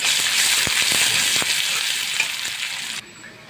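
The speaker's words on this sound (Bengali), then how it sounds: "আমার পেঁয়াজ একটু ভাজা হয়েছে" Chopped onions fry in refined oil in a pan on a stove, giving a close, continuous sizzle with a few sharp stirring clicks before the sound cuts off abruptly.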